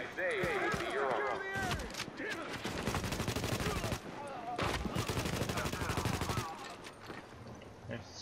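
Automatic weapons chatter in Tom Clancy's The Division, dense rapid bursts of gunfire filling several seconds of a loud firefight, with voices speaking over it.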